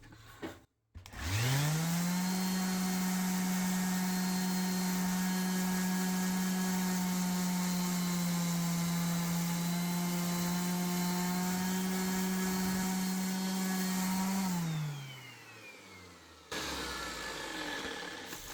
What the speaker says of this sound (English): I have to sand the edges, I forgot that.